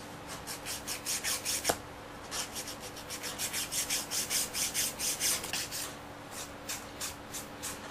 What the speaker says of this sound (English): we're just giving them a really really good file